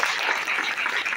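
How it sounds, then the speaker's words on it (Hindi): A crowd gives loud applause for a guest at a direct selling meeting, a short dense burst of clapping that stays even throughout. "जोरदार ताली सर के लिए।"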